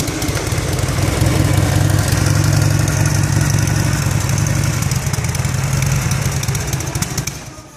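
A 1985 Harley-Davidson FXST motorcycle engine runs steadily at close range, a loud low rumbling idle that holds even for several seconds before easing slightly at the end; the engine is noted as needing a carburetor adjustment.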